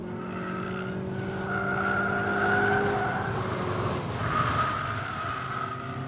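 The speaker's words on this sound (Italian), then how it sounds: "il sound dello scarico non è niente male" Audi S1 turbo engine and exhaust under way, a steady droning engine note with shifting harmonic tones as revs rise and fall, moderately loud and continuous.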